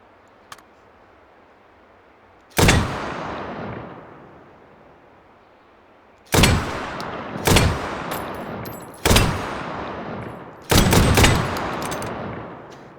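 A shotgun loaded with 00 buckshot fires in the H3VR video game. There are five loud, separate shots, each with a long echoing decay, and a faint mechanical click comes before the first one.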